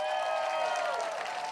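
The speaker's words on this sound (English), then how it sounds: "Let's give them one last round of applause." Audience applause after a drumline performance at a community event, a steady dense wash of clapping filling the whole moment, fairly loud and continuous with a slight fade toward the end.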